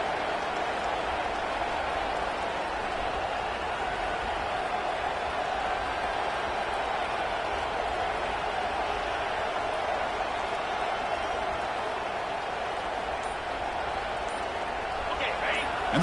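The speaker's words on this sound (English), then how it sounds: "And the crowd coming to life here" Broad, steady roar of a football stadium crowd cheering while the defense plays in the red zone, a continuous distant wash of noise beneath an announcer's voice throughout.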